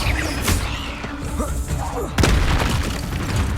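An Incendio fire spell cast in Hogwarts Legacy: loud, dense bursts of whooshing fire and magical booms, with a heavy thumping impact about two seconds in, while a voice speaks over the action.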